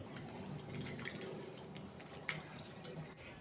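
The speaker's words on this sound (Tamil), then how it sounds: "இப்போ சிக்கன் கிரேவிக்கு தேவையான அளவு தண்ணி சேர்த்துக்கலாங்க" Water poured into chicken gravy as it cooks on the stove for a Kerala-style somberi chicken side dish, a steady close splashing and trickling pour with a few drip-like splashes, no talking.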